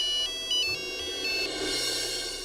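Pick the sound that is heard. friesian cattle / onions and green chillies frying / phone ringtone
phone ringtone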